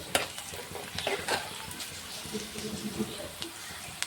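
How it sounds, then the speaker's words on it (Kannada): Onions frying and being stirred in a pan, a soft steady sizzle with light scraping and clicking strokes throughout, fairly quiet and close. "ಈರುಳ್ಳಿದು ಕಲರ್ ಚೇಂಜ್ ಆಗತ್ತಾನ ಫ್ರೈ ಮಾಡೋಣ"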